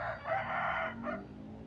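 A single Burmese game rooster crows once nearby, a short hoarse call rising then trailing off, over faint background noise outdoors by the pen.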